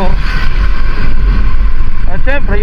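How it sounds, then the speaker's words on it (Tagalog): Outdoor roadside ambience with the low rumble of passing vehicles, an engine hum and wind buffeting the microphone, heard under someone talking up close. "may mga ibang mga sasakyan na dumadaan din"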